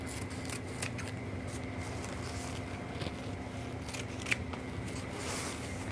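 Scissors snip through ribbon for a Dollar Tree Halloween wreath, a few soft, quiet cuts with one sharper click against a steady low room hum.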